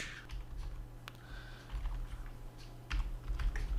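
Computer keyboard typing in a steady run of quick clicks, close and fairly quiet, with a couple of heavier keystroke bursts toward the end and a low background hum.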